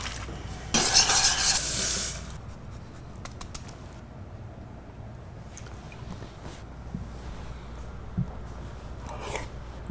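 Pasta finished in a pan with chunky garden ragù sauce, a loud burst of sizzling at first that settles into quieter stirring, scraping and clinks.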